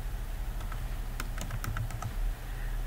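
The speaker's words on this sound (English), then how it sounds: "so let's just type my work" Brief quick keystrokes on a computer keyboard entering a database name, a short cluster of light taps over a low steady background hum.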